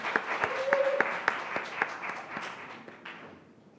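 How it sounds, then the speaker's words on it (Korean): An audience at a youth speech contest claps in a moderate, scattered round of applause that thins and fades away over a few seconds. "양정우 학생의 연설 박수로 맞아주세요."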